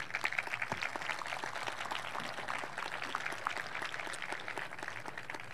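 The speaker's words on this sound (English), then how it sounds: "Let's give our students a big round of applause." Steady, dense applause from a graduation ceremony audience at Calexico High School, a broad even wash of clapping throughout, moderately distant and without pauses.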